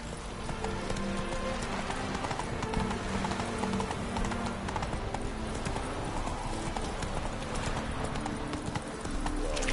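Horse hooves galloping in The Witcher 3: Hearts of Stone, a fast steady clip-clop running continuously and fairly close, with patter and ambient game sound behind it.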